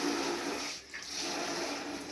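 Warm water runs steadily from a tap into a container in a modest home, a continuous close rushing hiss with a brief dip partway through and no talk.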